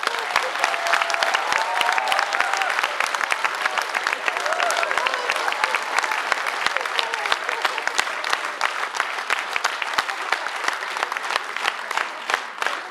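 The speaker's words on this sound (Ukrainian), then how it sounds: "То плескайте мені в долоні." A concert audience at a Ukrainian song festival claps continuously for nearly thirteen seconds, a loud, dense, sustained applause with crowd noise and faint voices beneath.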